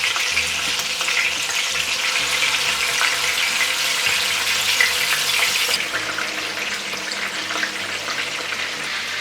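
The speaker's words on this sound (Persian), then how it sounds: "میتونید کبابتان به این شکل جور کنید و در بین روغن بندازید" Shami kabobs, Afghan style, frying in hot oil give a steady, dense sizzle that holds for several seconds, close and even, with a slight drop in intensity partway through and no voices.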